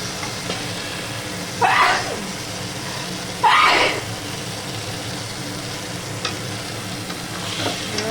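Meat frying in oil with onion, ginger, cumin, green chili and garlic paste, salt and turmeric, with a low continuous sizzle broken by two louder hissing bursts as it is stirred, close by.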